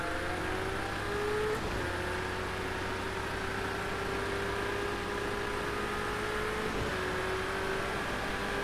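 A Porsche in a racing video game drives past with a steady engine drone throughout, its tone shifting slightly as it goes by, fairly loud and heard alone.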